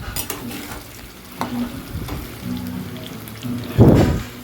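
Curry leaves hit hot oil over frying potatoes in a pan, giving a soft crackling sizzle with light stirring scrapes and a louder burst of spitting near the end.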